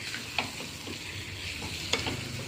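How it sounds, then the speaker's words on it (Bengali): Spices fry with tomato and ginger in a pan, a soft continuous sizzle broken by a couple of sharp stirring scrapes, close and fairly quiet, with no talk. "মশলাটা কষে নিলাম, টমাটোর আদা হিঙ্গিরা ফোড়ন"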